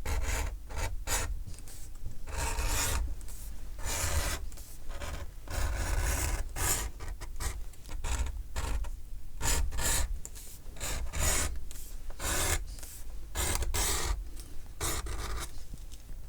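A tool roughs up a leather surface to raise its fibers, making repeated close scraping, rasping strokes in an uneven back-and-forth rhythm with short pauses between passes.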